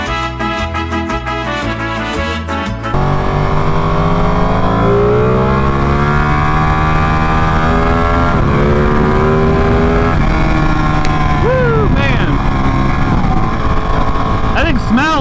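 A Ducati Panigale motorcycle engine revs hard close by, its pitch climbing and dropping in repeated loud sweeps after a sharp change in idle.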